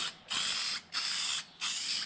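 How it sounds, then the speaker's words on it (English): Aerosol can of DEOX R88 heavy duty rust preventative sprayed onto a cleaned surface in three short hissing bursts, each about half a second, close and clear with brief pauses between. "Just clean your surface using some wax and grease remover and then spray it down."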